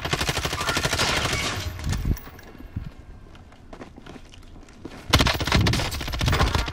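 Warzone gunfire: bursts of rapid automatic shots crackle loudly at the start and again near the end, with a quieter stretch of scattered distant shots and footsteps in between.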